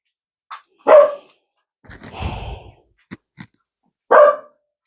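A dog barking in a hallway, a few loud, sharp separate barks with short gaps between them, close by, along with a small yip and some rustling.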